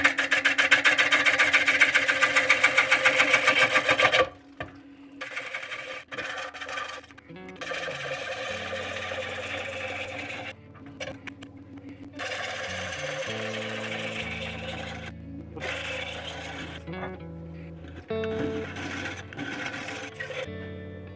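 A wood lathe spins a warped wooden blank, first a steady loud whir, then intermittent buzzing and scraping bursts with pauses as the tool catches the uneven surface.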